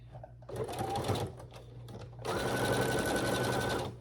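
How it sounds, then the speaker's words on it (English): A sewing machine stitches the corner of a summer tote bag, starting with a back stitch, in two bursts: a short run with a pause, then a longer steady stretch of motor whir and rapid needle clatter, close and clear. "let's go to the machine and sew them nicely"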